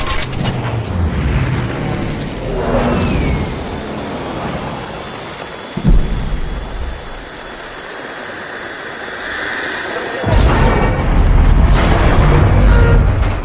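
A Pearl Harbor bombing scene from a Michael Bay war film: a dense roar of aircraft engines and explosions with a sharp boom near the middle, a quieter rumbling stretch, then the blast noise swells loud again.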